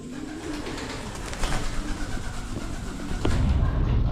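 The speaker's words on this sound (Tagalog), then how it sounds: "Tuwa naman ang ibon na yun" Pigeons coo softly and repeatedly against a busy, noisy background, close by and steady throughout.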